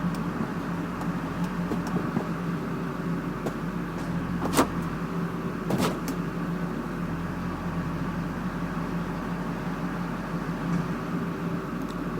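A 2002 GMC Sierra pickup idles in gear with a steady low engine drone, two brief clunks or clicks standing out partway through. The truck has a fault that kicks it out of gear, and nobody talks over the engine.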